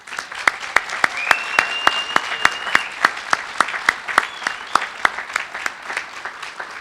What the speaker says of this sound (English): Charlie Dancy, Harold Cox, and Maury Balcom, with a final round of applause.